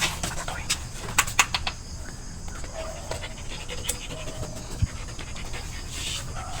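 A dog pants rapidly and steadily close by, with a few faint clicks and rustles in the background.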